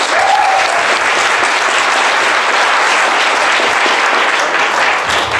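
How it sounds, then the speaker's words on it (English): A large crowd at a business opportunity presentation applauds steadily and loudly for a speaker being welcomed on stage, the dense clapping continuous throughout without a break. "So may all of you help me put your hands together for Samson Lee."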